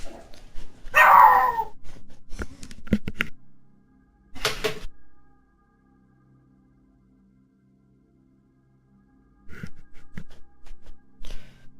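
A dog in the video game Deus Ex: Invisible War, in an Antarctica level, gives a few short, sharp barks in separate bursts with quiet gaps and faint game sounds between them.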